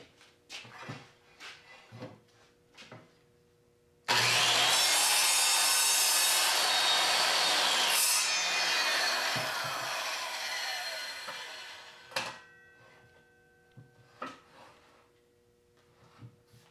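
A handsaw cuts through wood for a reloading bench in a long, loud continuous stretch of steady strokes, with scattered knocks and handling sounds before and after.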